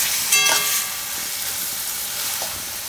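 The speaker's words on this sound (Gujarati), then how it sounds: "ટમેટાને આપણે પાકવા દેવું, વચ્ચે વચ્ચે હલાવતા રહેવું." Tomatoes cooking down in a pan for a Gujarati peas-and-tomato curry, giving a steady broad sizzle with a couple of brief scraping stirs near the start and one more later.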